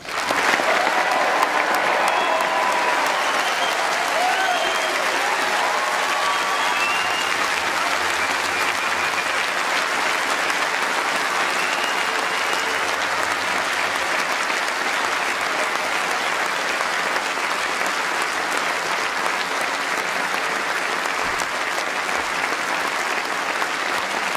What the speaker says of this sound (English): give one last huge round of applause for all of our graduates